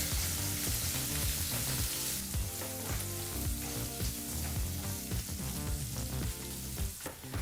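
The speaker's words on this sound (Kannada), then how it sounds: "ಈಗ ಮೀಡಿಯಂ ಫ್ಲೇಮ್ನಲ್ಲೇ ಎರಡು ನಿಮಿಷಗಳ ಕಾಲ ಚೆನ್ನಾಗಿ ಇದನ್ನೆಲ್ಲ ಫ್ರೈ ಮಾಡ್ಕೋಬೇಕಾಗತ್ತೆ" Sliced onion and curry leaves frying in oil on a medium flame for a lentil and radish saaru, with steady crackling sizzle and occasional stirring scrapes, close and continuous without talk.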